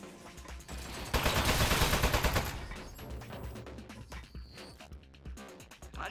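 Turret gunfire in the puzzle game Aperture Desk Job: a loud, rapid burst of shots that peaks early then trails into scattered rattles and clanks, close and without talking.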